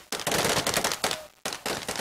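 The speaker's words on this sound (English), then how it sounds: "Libyans greeted the death of the dictator with celebratory gunfire" Celebratory gunfire in Libya, loud close bursts of rapid automatic shots in two rattling volleys separated by a brief gap.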